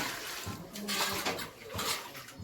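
Splashing and sloshing water in short bursts as mangoes are rinsed and washed by hand, close by.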